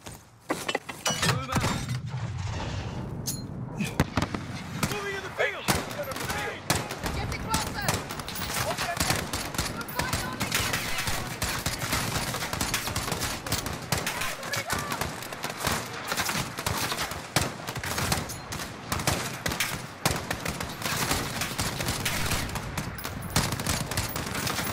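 Sustained automatic gunfire and scattered explosions in a Call of Duty Modern Warfare battle, dense and loud throughout, with shouted voices breaking through the chaos.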